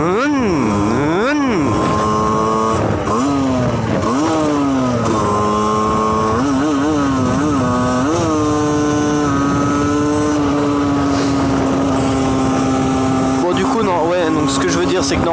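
A motorcycle accelerating slowly and sluggishly, engine pitch climbing in drawn-out rises and dips before settling into a steady drone, close and loud.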